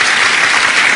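Studio audience on the TF1 game show Une famille en or bursts into dense, steady clapping, loud and close, filling the whole second without a break.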